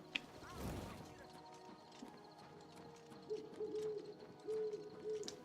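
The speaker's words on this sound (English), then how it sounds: "Do you hear the owls?" Owls hoot softly in the ambient soundscape of the video game Oblivion, a few low, steady hoots after the first couple of seconds, faint and distant beneath the background sounds.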